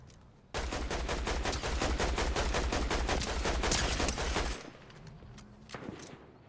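In a Fortnite Zero Build match, a fast, sustained volley of loud gunshots cracks for about four seconds, then cuts off, leaving quieter background game sounds.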